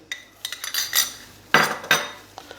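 Spoonfuls of sugar being added to mango juice: a series of sharp metallic spoon clinks against a dish, several light taps followed by two louder, ringing strikes, close up with no talking.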